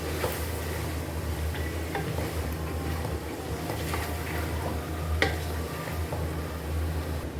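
A spoon scrapes and taps against a pot as tomatoes are stirred into chicken and potatoes for degi dum biryani, with irregular clinks over a low sizzle, close and fairly quiet.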